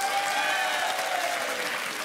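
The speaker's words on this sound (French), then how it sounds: "Eh ben, on vous applaudit." Sustained studio audience applause from a French television dating show, dense and steady clapping filling the room without a break, with no talking over it.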